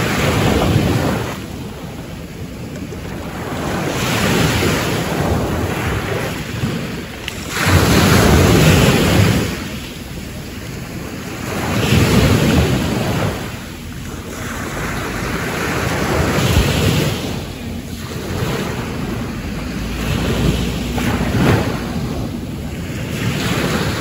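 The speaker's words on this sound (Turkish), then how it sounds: "Biraz dalga sesleriyle sizi baş başa bırakayım" Ocean waves break on the shore in slow, repeated surges, each rush swelling and fading into a steady wash, with wind buffeting the microphone and no talk.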